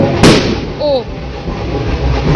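Firecrackers burst during a Dussehra celebration, one sharp loud bang near the start followed by a brief whistling rise, over steady crowd noise with people talking nearby.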